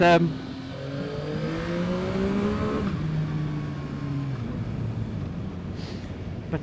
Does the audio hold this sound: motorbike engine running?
yes